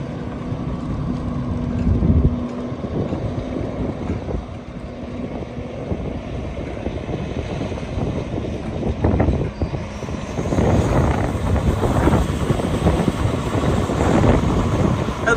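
A 2014 Mack Pinnacle CXU613 truck engine drones steadily as the truck circles a lot, a low continuous rumble with wind buffeting the microphone, rising louder toward the end as it comes closer.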